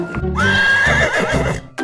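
A horse gives a loud, close whinny lasting about a second, with a faint clip-clop of hooves underneath and no talking.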